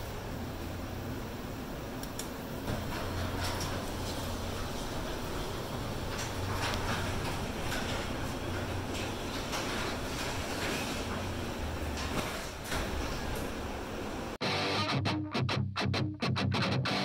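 Chamberlain opener running a carport garage door, a steady, continuous mechanical rumble and rattle that holds for about fourteen seconds before cutting off abruptly, followed by scattered clunks.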